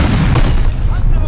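A vehicle blows up in Call of Duty: Vanguard on the Champion Hill map with a loud, dense booming burst that rolls on for about a second and fills the whole mix.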